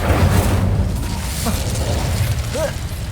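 Incendio fire spell cast in Hogwarts Legacy: a loud whooshing burst with crackling, popping texture and a low rumble, followed by a brief sharp magical chirp.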